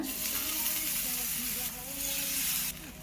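Tandoori broccoli frying in oil on a tawa over medium flame, a steady close sizzle with brief stirring clatter, with a voice speaking over it.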